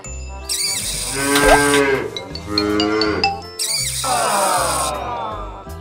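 A cow moos loudly and close by in several long, wavering calls, alone with no talk over it.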